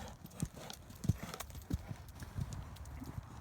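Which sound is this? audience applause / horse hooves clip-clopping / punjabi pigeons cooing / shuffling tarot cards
horse hooves clip-clopping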